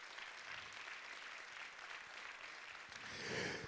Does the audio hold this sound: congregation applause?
yes